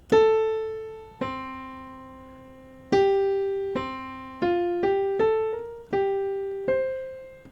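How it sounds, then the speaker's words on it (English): A clear keyboard melody opens with a high note dropping a wide interval to a lower one, followed by several more sustained notes at a slow pace. "that's that major 6 going down"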